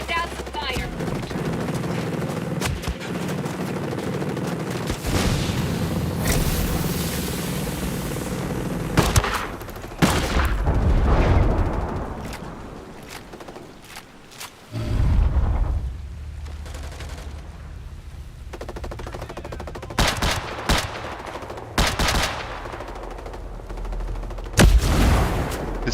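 Gunfire in the Ghost Recon Breakpoint video game: loud bursts of automatic fire and single shots, close and sharp, come in clusters with brief lulls between them, and a voice talks at times.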